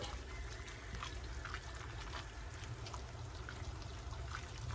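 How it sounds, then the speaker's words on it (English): Cooked noodles being drained as water pours and trickles steadily through a strainer, a continuous close splashing rush lasting the whole clip with no talk. "get these noodles drained"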